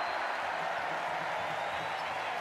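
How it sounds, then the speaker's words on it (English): German basketball fans applaud after a made free throw in an arena, a continuous, distant wash of clapping and crowd noise at an even level. "And a major applause from the German fans"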